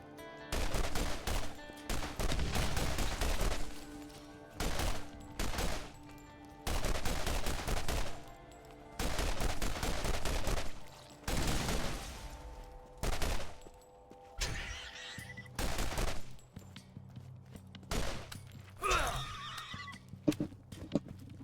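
Repeated loud bursts of gunfire in the shooter Borderlands, including shotgun and repeater shots, come in clusters separated by brief pauses, with horse-like whinnying sounds and other game effects near the end.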